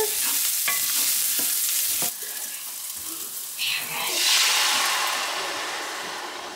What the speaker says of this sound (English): I am just cooking up the onions and asparagus in some